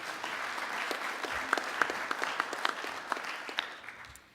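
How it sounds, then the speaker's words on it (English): An audience at a military symposium panel applauding as an admiral is introduced: dense, steady clapping from a crowd in a hall, moderately loud and continuous, tapering slightly toward the end. "Please join me in a warm applause for Admiral Norton."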